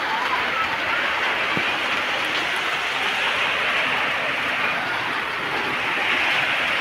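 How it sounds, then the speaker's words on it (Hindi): Heavy rain pours down outdoors near a house and a guava tree, a steady, dense hiss of falling water that stays even and loud throughout. "देख सकते हैं बहुत ज़्यादा बारिश हो रहा है"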